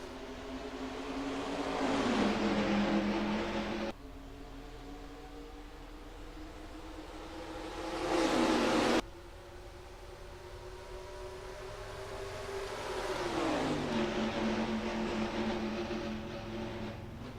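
NASCAR Racing 2003 stock cars at Rockingham roaring away at the green flag, engine drones sweeping up in pitch as they accelerate, loud and close with passing surges and no talk.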